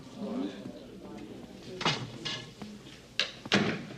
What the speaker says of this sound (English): Can you excuse us a minute and just close that door for me?